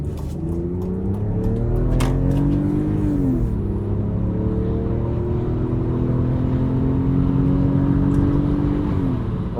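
A BMW engine revs hard in first gear in sport mode, climbing steadily in pitch toward about 6,000 rpm with a loud, continuous intake roar, then briefly dropping and rising again before a sustained high drone.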